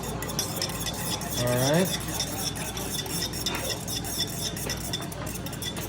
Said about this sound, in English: And then we're gonna mix that all together.